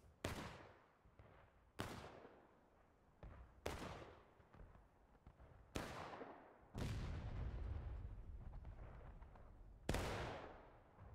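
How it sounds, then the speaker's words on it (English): Musket volleys in the video game War of Rights, six sharp booming discharges spaced a couple of seconds apart, each ringing out with a long rolling echo, fairly distant with no voices. "We got Willie Stone here putting in a volley."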